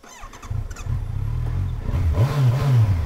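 Adventure motorcycle engine revving hard, a loud rising growl that climbs and swells in pitch over a few seconds, close to the microphone with some clatter at the start and no talking.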